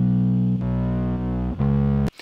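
Two layered bass guitar tracks, one clean and one distorted, play a few sustained buzzing low notes with a chord change midway, loud and close, then cut off abruptly.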